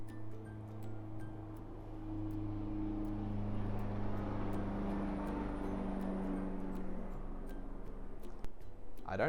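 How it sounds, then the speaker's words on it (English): A low, steady rumble of helicopters flying overhead at night passes, swelling slightly and lingering throughout, with faint ticking clicks scattered on top. "We got the helicopters going again"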